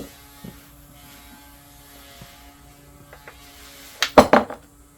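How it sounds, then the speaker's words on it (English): A cracked NP241J transfer case from a 2006 Jeep LJ Rubicon is pried apart. After a few faint, scattered clicks, a short cluster of sharp metallic cracks and scrapes comes up close near the end. "next we're going to pry this up"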